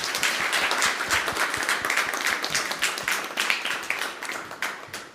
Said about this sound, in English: So everyone give a round of applause, please, to Alex, please.